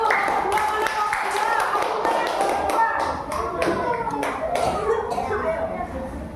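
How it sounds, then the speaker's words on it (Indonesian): A classroom crowd claps in a dense, sustained burst of applause after a group presentation, with scattered sharp hand taps and children's voices mixed in. "Tepuk tangan buat kelompok 1."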